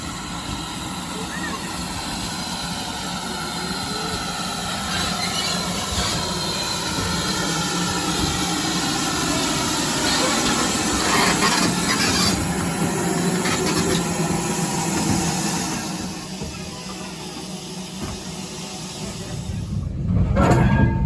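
A ride on the Telford Steam Railway gives a steady, loud rumble of a moving train that builds slightly mid-ride and drops near the end before a final rise, with a voice talking over it at times.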